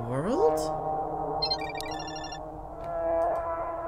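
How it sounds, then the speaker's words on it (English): An electronic phone ringtone plays from a nearby balcony, a sustained melodic tone with a rising sweep at the start and bright chiming notes around the middle, heard indoors at moderate distance. "Asuka's ringtone? I think it's coming from the balcony."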